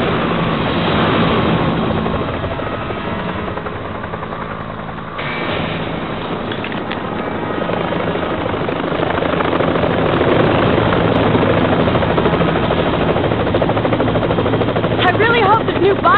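Helicopter descending to land in the Resident Evil game, a loud continuous rotor drone with steady throbbing, layered under intermittent talk.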